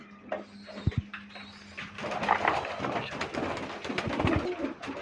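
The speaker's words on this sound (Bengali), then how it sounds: "কবুতর সব ছড়াছিন্ন হয়ে আছে" Pigeons coo softly in a crowded loft, low burbling calls layered under fluttering and shuffling, with a clatter near the start.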